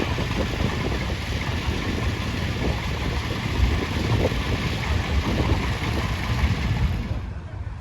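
A vintage tractor engine idles steadily at a steam fair, a continuous low rumble with wind buffeting the microphone throughout, fading out abruptly at the end.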